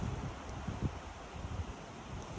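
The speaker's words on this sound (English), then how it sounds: "it's windy as heck" Gusty wind buffeting the microphone, a low rumbling roar with a few stronger bursts, continuous throughout.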